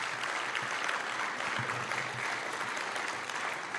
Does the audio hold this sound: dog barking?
no